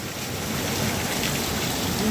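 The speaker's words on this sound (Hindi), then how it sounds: "जून की तीसरी बारिश है बिल्कुल।" Rain falls on a Pakistani village during an unusually cold June day, a steady soft hiss of drops with no voices.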